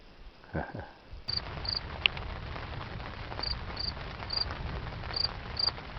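A cricket chirps from inside a tent fly at a campsite, short high repeated trills coming in regular pulses, close and steady over a faint outdoor background.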